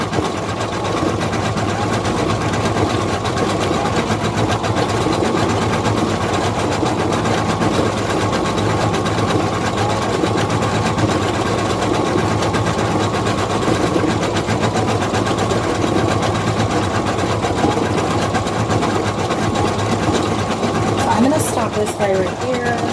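An embroidery machine stitches a felt giraffe mask with a steady, continuous mechanical whir and needle chatter, loud and close throughout, with a voice talking over it.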